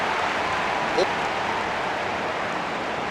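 A stadium crowd in the AFL Evolution 2 football video game cheers and applauds after a goal, a dense steady roar of clapping throughout, with a commentator's voice faintly under it.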